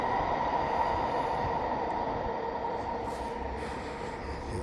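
Freight train hopper cars roll past in a rail yard, a continuous close rumble and rattle that holds steady throughout, with no voices.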